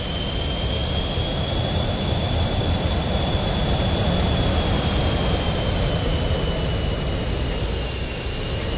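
An F-15C fighter jet roars continuously through a maximum performance takeoff in the DCS flight simulator, a loud, dense engine rush with a steady high whine running over it.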